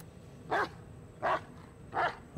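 Bullet, a dog in the Blair Witch video game, gives four evenly spaced barks at a moderate distance over a low ambient rumble.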